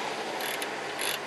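A ratchet tightens a brake caliper bolt on a Volkswagen Scirocco, giving a brief close metallic clicking burst in two short runs of rapid pawl clicks.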